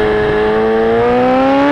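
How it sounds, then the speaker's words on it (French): An Aprilia RSV4 1100 sport bike passes on the Le Mans circuit during a trackday, its loud, close engine holding a high whine that climbs steadily in pitch over a couple of seconds. "Ah, petit passage avec un RS V4 1100"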